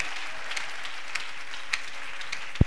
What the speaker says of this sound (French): Qui peut l'acclamer très fort?